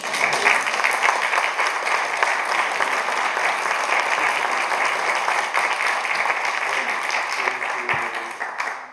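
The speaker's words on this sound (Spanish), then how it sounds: "Yo les pido un aplauso también" A large theater audience applauds steadily for several seconds, a dense wash of clapping that tapers off near the end.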